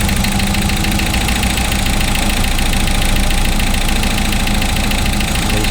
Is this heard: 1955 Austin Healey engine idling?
yes